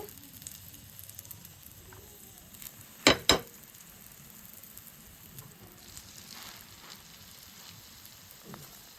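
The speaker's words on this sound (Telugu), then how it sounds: "ఇప్పుడు మనం ఈ బ్రెడ్ వేపుకోవాలి" Bread slices fry in a spoonful of oil on a dosa pan, giving a faint, steady low sizzle with a couple of sharp clatters partway through and scattered soft crackles.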